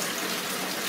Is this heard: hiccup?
no